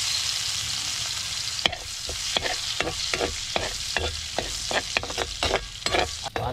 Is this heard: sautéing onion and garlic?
yes